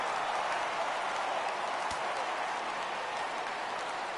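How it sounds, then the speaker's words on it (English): Crowd noise from a baseball video game on PS4, a steady, broad roar of fans rising for a full count, continuous and fairly even throughout. "Crowd gets up for the 3-2."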